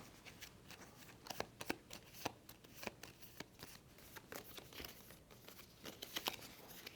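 Cards being shuffled by hand during a tabletop game, a run of crisp riffling bursts and papery flutters repeating close by, with no talk over them.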